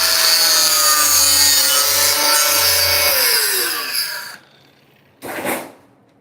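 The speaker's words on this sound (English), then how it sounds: "It is the sound of your people. The grinder." An angle grinder with a cutting disc slices through sheet metal on a 1937 Zephyr floor, a loud, steady high-pitched whine that drops in pitch as it winds down, then a short second cut.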